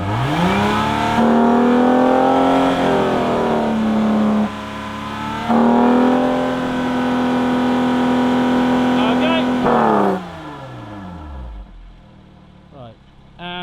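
A Lotus Evora sports car engine with a titanium exhaust revs to about 5,000 RPM and holds a high, loud whine, drops, revs again and holds, then winds down to idle.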